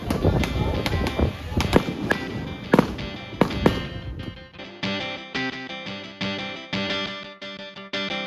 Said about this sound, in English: Like a better distance in which to watch these fireworks go off.